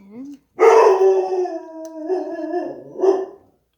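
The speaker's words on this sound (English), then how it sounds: "I'm not really sure why my dog is barking," A dog howls and yips in long, drawn-out cries close by, with a brief bark-like start and a few wavering pitch changes.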